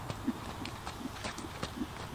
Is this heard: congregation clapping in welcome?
no